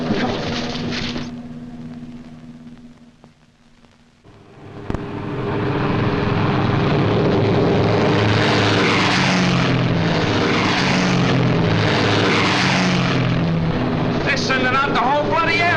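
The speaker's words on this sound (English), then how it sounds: "Every bomber on the island's pulling out." Bomber aircraft engines run up for takeoff, a steady propeller drone that dips, then surges into a loud, sustained roar with shifting tones, with an earlier mechanical hum at the start.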